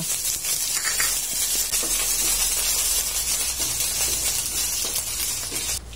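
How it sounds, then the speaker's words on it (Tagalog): Onion, ginger and garlic sauté in hot oil in a pan, giving a steady, close, bright sizzling hiss that continues evenly throughout. "igigisa po natin ang sibuyas, luya at bawang"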